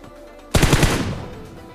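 A rapid burst of automatic gunfire from the mobile battle royale game BGMI erupts suddenly and loudly, several quick shots in a row with a trailing echo.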